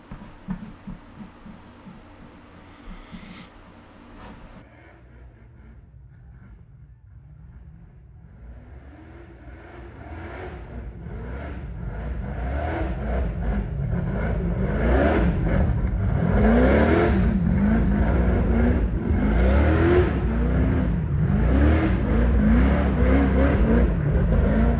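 An off-road racing buggy makes its winning run at Adventure Off-Road Park. After a quiet start, the engine swells into loud, sustained revving that climbs and holds near full power, with rising and falling pitch sweeps.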